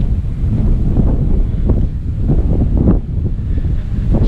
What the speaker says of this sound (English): As you can tell, it's quite windy this morning